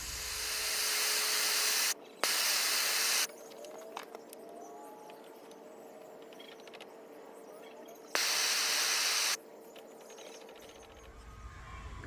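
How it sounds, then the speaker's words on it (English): A steady, close flame hiss burns carbon off the needle of a 1930s KampKook camp stove, running the whole time with two louder roaring stretches and faint small metallic clicks between them. "Now we're going to burn the carbon off the needle."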